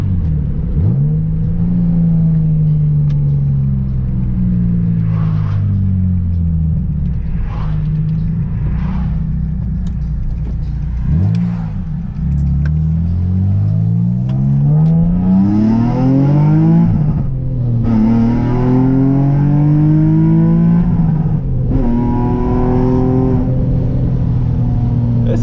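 A Nissan 350Z with a manual gearbox drives and revs, its engine note rising and falling through several gear pulls, loud and close from inside the cabin with no talking.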